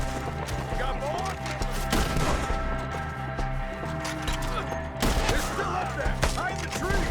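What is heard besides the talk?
gunfire in video game Red Dead Redemption 2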